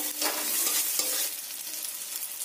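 Spice masala with green chilli being stirred and fried in a pan for an egg curry, a short close sizzle with brief scraping strokes that eases down after about a second.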